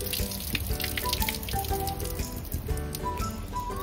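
Water runs steadily from a tap while something is washed beneath it, an even close splashing rush throughout with no talking.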